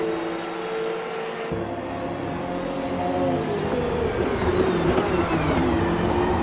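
Several GT2 racing cars in Forza Motorsport drone down the main straight in a tight slipstream, layered engine notes climbing steadily in pitch as they accelerate, loud and continuous.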